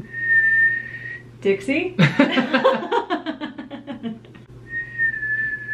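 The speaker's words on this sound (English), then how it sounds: "That's my best whistle." A person whistles a short steady note, breaks into laughing and talking, then whistles the same sustained tone again.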